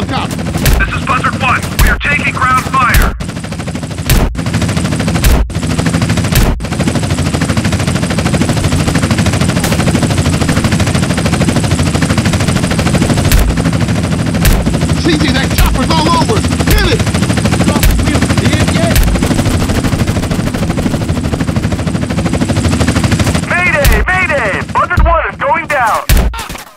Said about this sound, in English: Buzzard 1, we are taking ground fire.